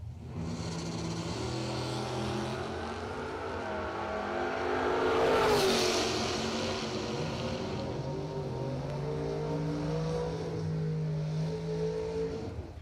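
A 1969 Plymouth Valiant drag car at a radial drag racing event revs its engine loudly, the roar swelling to a peak midway amid steady crowd and track noise, with harmonic engine tones running throughout.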